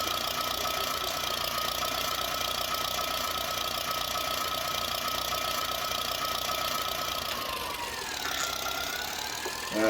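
A tractor engine runs steadily on a 1966-era farm, a continuous mid-pitched drone with a faint rattle that shifts slightly near the end, close and alone without talk.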